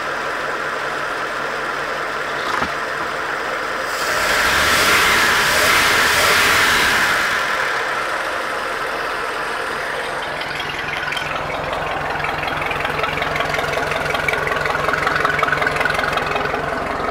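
An engine runs steadily in gear after a carburetor rebuild, a close, even idle that swells into a louder whooshing rev for a few seconds, then settles back to a steady run.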